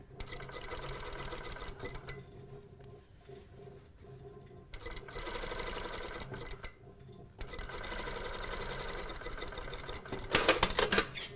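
A sewing machine runs in three bursts, stitching a seam allowance down onto the facing of a box top toile, with short pauses between runs and a few clicks near the end.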